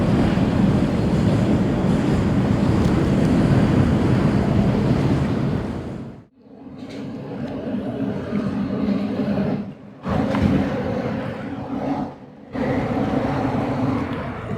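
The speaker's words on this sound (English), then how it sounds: "Getting out of the wind." Strong wind buffets the microphone while paddling on open water under Newark, a loud continuous roar that drops out briefly a few times, with no talk.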